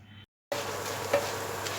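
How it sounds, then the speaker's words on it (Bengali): Shredded potatoes fry in hot oil while being stirred nonstop, turning crisp for jhuri aloo bhaja; a steady close sizzle with light scraping follows a brief gap of silence. "কন্টিনিউ নাড়াচাড়া করে টোয়েন্টি সেকেন্ড ফ্রাই করতে হবে"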